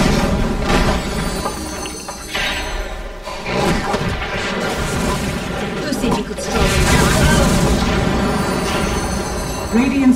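Combat sounds from the Dota 2 video game as a tower comes under attack: dense clashing, thuds and spell whooshes layered with game music, loud and continuous.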